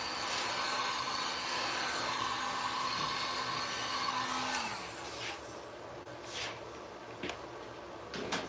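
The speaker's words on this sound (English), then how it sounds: "Hit it with the heat gun." A heat gun blowing on vinyl during custom lowrider paint work, a steady close airy roar with a faint motor whine that shuts off partway, leaving quieter room sounds and a few light knocks.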